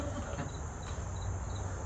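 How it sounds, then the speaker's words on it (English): Crickets chirp outdoors during an evening poetry reading, a thin continuous trill with faint pulsing repeats, steady and moderately distant over a low background hum. "I like that there are actual crickets."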